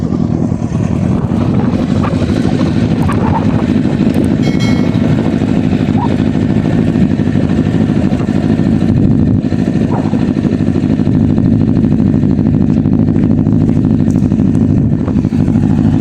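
Kawasaki ZX-10R inline-four 1000cc superbike engine running loud and steady throughout, with a dense constant roar and some wind buffeting, on a test ride in Saudi Arabia.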